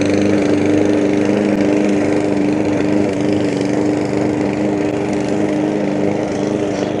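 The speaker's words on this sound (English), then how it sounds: "We do have a neighbor out here mowing the lawn." A neighbor's lawn mower runs steadily nearby in a residential yard, its engine droning at a constant pitch with a strong low hum throughout, uninterrupted and without voices.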